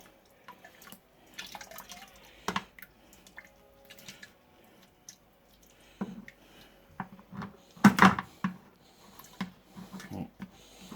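Squashed homebrew hops for an IPA drip water with scattered wet splats and squishes, quiet and close, with a louder squelch partway through.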